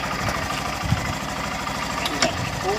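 A motorbike engine idles with a steady low, throbbing rumble close by, while voices can be heard briefly over it.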